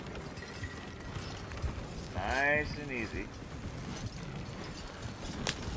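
Hooves of horses pulling a wagon in Red Dead Redemption: steady clip-clop under creaking, rattling wagon noise throughout, with a short horse whinny midway and someone speaking briefly.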